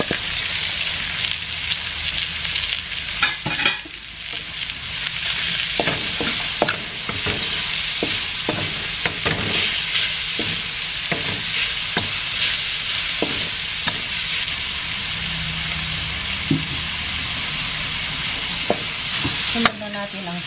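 A spoon scrapes and stirs through corn soup with wood ear mushrooms in a pot, giving repeated clinks and knocks over a steady simmering hiss, with no talking.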